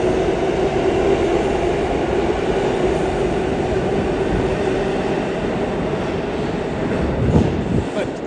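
New York City subway L train running, a steady loud rumble of wheels and motors filling the car, with a brief clank near the end and faint voices underneath.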